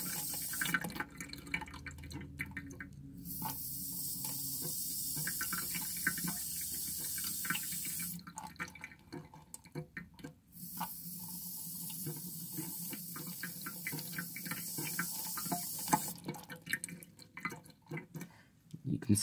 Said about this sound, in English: I think I'll do two more flushes